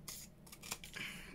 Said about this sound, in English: and then I just got my big scissors and just cut them